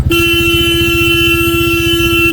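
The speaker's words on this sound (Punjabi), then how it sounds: "ਇਹਨੂੰ ਹਾਰਨ ਮਾਰਿਆ ਟਰੱਕ ਵਾਲਾ" A loud, sustained truck horn blares continuously over a rumbling engine on the Delhi–Katra Expressway, steady from start to finish.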